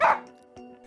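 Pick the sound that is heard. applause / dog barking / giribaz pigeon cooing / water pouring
dog barking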